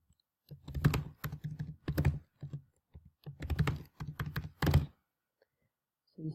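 A password is typed on a computer keyboard in two quick bursts of close, crisp key clicks, each burst made of several rapid taps with a short pause between them.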